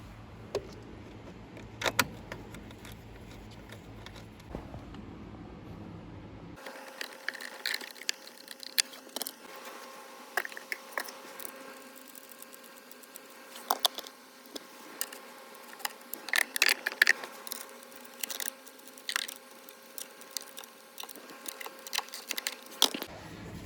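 Screws go back into the glove box of a 2017 Vauxhall/Opel Zafira Tourer during a pollen filter replacement. Close, scattered clicks and scrapes of plastic and a driver stop and start at irregular intervals over a quiet background.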